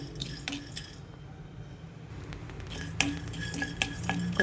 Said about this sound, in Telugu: కొన్ని సన్ఫ్లవర్ సీడ్స్ కూడా వేయించుకోవాలండి దూరగా, కొంచెం కలర్ మారేదాకా.